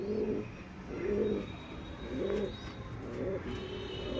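Hand-fed baby pigeons give four evenly spaced, throaty coos, each a short rolling burst, close and fairly soft with quiet room noise between them.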